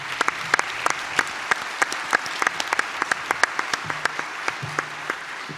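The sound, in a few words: audience applause for sponsors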